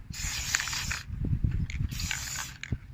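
Bursts of spray paint in a coppery colour hiss from a newly fitted nozzle, two long sprays about a second each separated by a pause, close and steady, with faint handling clatter underneath.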